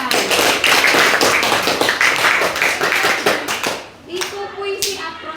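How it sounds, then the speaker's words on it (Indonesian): Schoolchildren in a ninth-grade social studies class clap together, a near, busy patter of hands that fades out toward the end, followed by a brief voice. "Oke, tepuk tangan."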